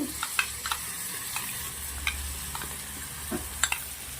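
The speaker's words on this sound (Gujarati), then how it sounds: "હવે જે આપણે દહીંમાં મસાલા મિક્સ કર્યા છે એ નાખી દેવાનો છે." Spiced yogurt mixture goes into potatoes frying in a pan for Gujarati dahi bataka dry bhaji, giving a steady, close sizzling hiss throughout, with sparse light clicks and scrapes of a spoon over it.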